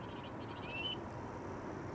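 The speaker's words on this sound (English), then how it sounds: "you're hearing predator bird sounds. Those are emanating from the bird control vehicle that is now doing an inspection." Recorded predator bird calls play from a bird control vehicle at Amsterdam Schiphol Airport, heard as a thin, brief whistling cry over a steady roar of background noise.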